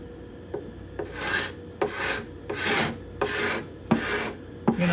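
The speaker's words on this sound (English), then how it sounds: "I'm not being aggressive with my scraping. I'm being careful with it." A hand scraper drawn across the bindings and purflings of a cedar guitar top, six even, careful rasping strokes in a slow rhythm, close and clear with no talking.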